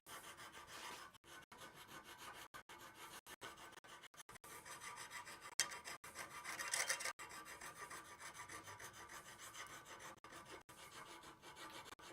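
Draw filing along a cross peen hammer head in a blacksmith shop, a steady run of rasping strokes repeating with short breaks, close and fairly loud, with no talking.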